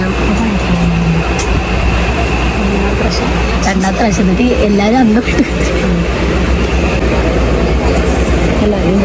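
Loud rumbling carriage interior of a moving stopping passenger train bound for Thanjavur, with a constant low roar and rattling, while people talk nearby over the noise.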